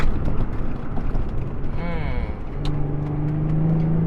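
Nissan 350Z Cabriolet slowing under braking on a drive, its engine note falling and then settling into a steady low hum, with a driver talking over it from inside the cabin.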